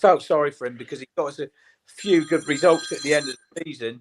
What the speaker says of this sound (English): Sorry about the phone just going off.